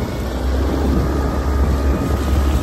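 A 15hp outboard motor drives a Takacat 420lx inflatable boat at about quarter throttle, a loud steady drone with water and wind rush close by, constant throughout with no talking.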